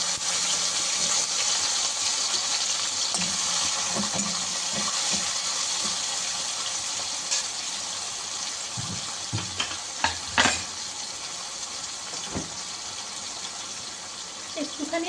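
Chopped vegetables and tomato hitting a hot pan give a steady broadband sizzle throughout, with a few brief clatters of utensils and faint voice sounds beneath.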